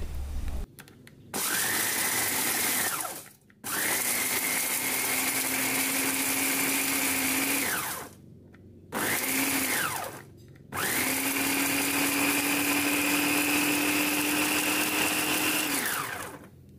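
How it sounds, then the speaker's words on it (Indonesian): A blender grinds lime leaves with crisp-fried garlic in loud, sustained bursts, four runs of motor whine separated by short pauses, the pitch dipping slightly as it starts and stops, with no talking. "Haluskan daun jeruk dan bawang putih yang sudah digoreng kering."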